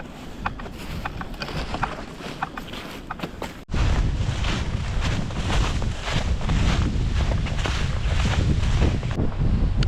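Cold winter wind blowing through the woods, a steady rushing roar buffeting the microphone that grows louder and fuller partway through, with no talk.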